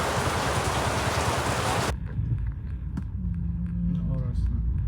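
A sudden downpour hisses loudly and densely for about two seconds, then cuts off abruptly to a much quieter background of softer patter, where people can be heard talking.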